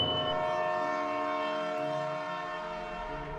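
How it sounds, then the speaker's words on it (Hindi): A train horn sounds in a long, sustained, tonal blast that holds steady and slowly fades, alone and fairly distant. "तभी ट्रेन के हॉर्न की आवाज़ आई"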